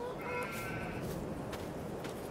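Sheep bleat in the farming game Farming Simulator 22, a couple of drawn-out calls over a constant dense background of game ambience, with no talking.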